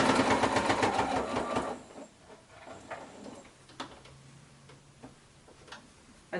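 Sewing machine stitching fabric for a quilted pillow cover, a fast even run of needle ticks for a couple of seconds, then stopping, followed by quiet scattered clicks and handling noises.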